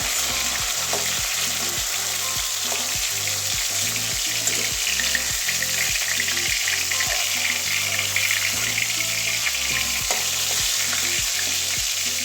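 Whole pointed gourds sizzle steadily in hot oil in a pan, with regular rhythmic tapping and scraping from stirring throughout and no voices.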